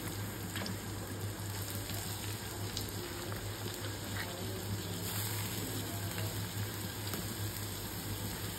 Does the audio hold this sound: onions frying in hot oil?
yes